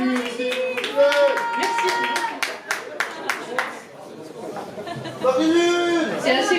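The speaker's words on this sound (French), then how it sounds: "Allez applaudir Marie-Lune" Audience at a slam poetry evening claps in a brisk burst of close, crisp hand claps that thins out, with chatter and voices mixed throughout and rising again near the end.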